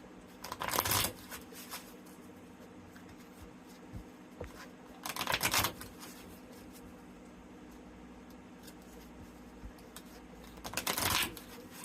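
Tarot cards are shuffled in three quick riffling bursts, spaced several seconds apart, close up against a quiet background.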